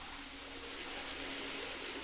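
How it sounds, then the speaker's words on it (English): A shower runs in the video game Danganronpa Mauve, giving a steady, even hiss of spraying water that continues unbroken with no one talking. "The second shower of Danganronpa Mauve."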